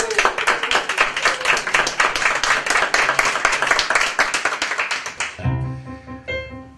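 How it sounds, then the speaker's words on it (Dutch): A theatre audience applauds a cabaret performer, Sven Ratzke, with loud rhythmic clapping that swells and holds for about five seconds, then cuts off abruptly as quiet stage sound and a faint voice take over. "Sven Radske, een groot applaus."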